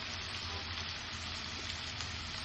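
Onion and garlic frying in a pan make a steady, even hiss of sizzling oil, moderately loud and unbroken throughout.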